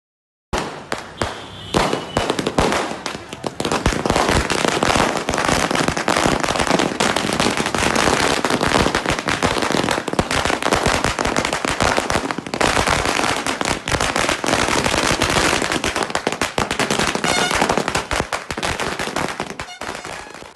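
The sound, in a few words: celebratory fireworks and firecrackers bursting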